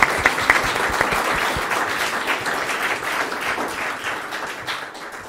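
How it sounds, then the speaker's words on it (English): Conference audience applauding keynote speakers at the end of a mergers and acquisitions research session, a steady wash of many hands clapping that starts strong and slowly tapers over about five seconds. "I think we can give a round of applause to all of our keynote speakers."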